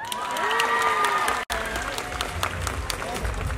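Pageant audience applauding the top ten finalists at Mister International Thailand 2022, a loud, dense crowd clapping with some cheering, briefly cut off mid-burst before resuming, with a voice heard over it.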